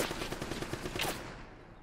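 A gun turret in Uncharted: Drake's Fortune fires a loud, rapid burst of automatic fire that rattles on for about a second and then trails off into a fading echo.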